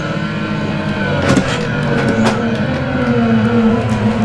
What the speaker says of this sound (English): Passing some R34s right now.